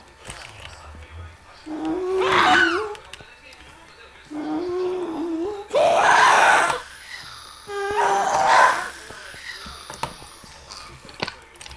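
A dog in a sky grid video game whines and howls in three or four drawn-out, rising cries separated by short pauses, with faint background game noise.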